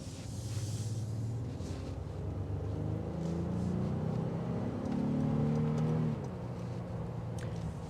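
A 2025 Honda Ridgeline TrailSport pickup with a V6 engine accelerates, its engine note climbing steadily in pitch over a constant road and wind roar, heard from inside the cabin at moderate level.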